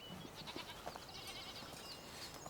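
Goats in a high Alpine pasture bleat a few times, faint and somewhat distant over soft background noise.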